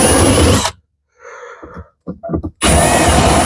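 A power drill whirs loudly in two long bursts while hole locations are marked in plywood, with quieter handling sounds and short clicks in the gap between them.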